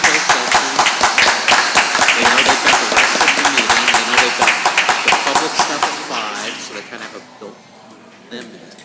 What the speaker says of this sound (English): Please join me in giving a well-deserved round of applause to 2025 TMEA All-State Band member Rodolfo Rojas.